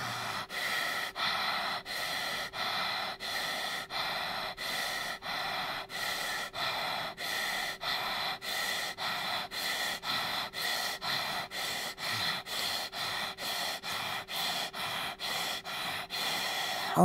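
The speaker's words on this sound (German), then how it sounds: "Und langsamer atmen." Deep, steady breaths during a yoga breathing exercise, each inhale and exhale repeating in an even rhythm of roughly one per second, close and clear with no talking over them.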